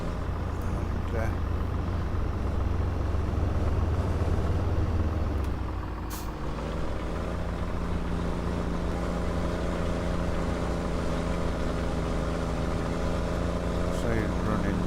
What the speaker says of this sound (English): Really do love the sound of this John Deere.